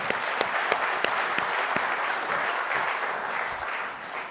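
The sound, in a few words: audience applause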